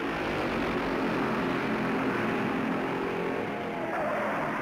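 Stock cars at the start of the 1964 Darlington Southern 500, a dense, loud, continuous roar of many engines from the racing field, sustained without a break.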